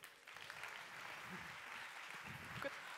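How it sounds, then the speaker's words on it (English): A conference audience at the NextM 2019 event applauds a speaker, a soft, steady, distant wash of many hands clapping that carries on evenly for the whole stretch. "So please give a big round of applause for Rachel Lowenstein."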